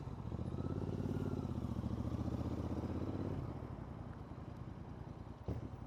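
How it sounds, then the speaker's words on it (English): A motorcycle engine rumbles loudly nearby on a Dolomites mountain road, its note shifting as it passes, then it fades to a quieter drone with a sharp clatter near the end. "it's insane the amount of bikes that are around here"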